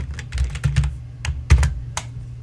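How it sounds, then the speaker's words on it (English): Keys on a computer keyboard clatter in quick, uneven bursts as search terms are typed, close and clear, with short pauses between clusters of keystrokes. "from here I could type in search terms such as real property"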